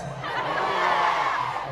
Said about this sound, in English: Wow, big crowd.